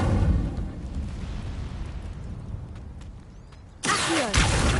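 An Incendio fire spell cast in Hogwarts Legacy bursts out as a sudden whooshing, crackling blast near the end, following a long dull rumbling roar of game ambience.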